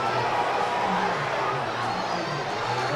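Football crowd at the Athletic Grounds during the second half of the 2013 Intermediate Football Championship final between Maddan and Tír na nÓg, a steady dense roar of voices without distinct peaks.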